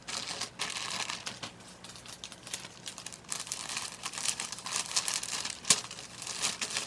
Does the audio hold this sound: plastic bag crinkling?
yes